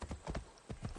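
Horse hooves clip-clopping in Assassin's Creed Odyssey, a quick uneven run of hollow hoof strikes in clusters, close and moderately soft, with no talk over them.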